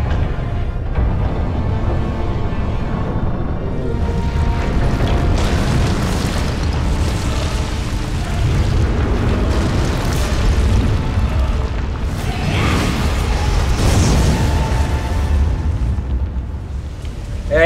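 Volcanic eruption in Tomb Raider Underworld at the Gate to Helheim, a continuous loud roaring rumble with repeated deep booms and bursts throughout, heard without talk.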